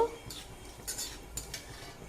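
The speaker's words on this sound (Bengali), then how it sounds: "সর্ষের তেল গরম হয়ে গেছে এবার দিয়ে দেবো এরকম পাঁচ ফোড়ন অল্প একটু পাঁচ ফোড়নটা দিয়ে একটু নাড়াচাড়া করব" Panch phoron spices are stirred in hot mustard oil, faint scraping and clinking of a spatula against a pan in a few short strokes, with light sizzling underneath.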